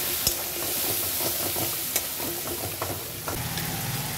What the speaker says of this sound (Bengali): একটু ভালো করে কষাবো